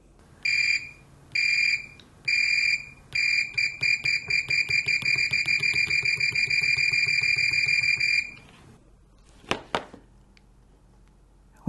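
Fluke 189 multimeter giving a high warbling tweedly beep, first in a few separate short bursts, then in a rapid stuttering run that settles into one long continuous tone before stopping, followed by a couple of faint clicks.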